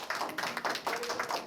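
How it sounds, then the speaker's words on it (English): Graduation ceremony audience giving a short round of applause, a few scattered claps in distinct bursts, fairly faint and sparse rather than a full ovation. "Just give yourselves a round of applause."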